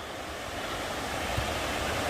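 Continuous broadband rush of water cascading at the Zhigalan waterfalls, a steady close roar with no distinct events and no voices.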